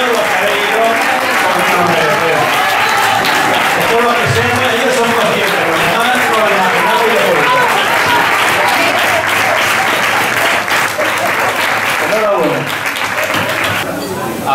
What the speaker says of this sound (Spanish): Yo os pido que se me dé un fuerte aplauso.